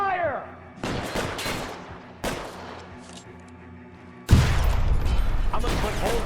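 Gunshots ring out in an L.A. Noire street shootout, arriving as sharp, loud bursts separated by short pauses, with a heavier, sustained volley of fire closing out the stretch.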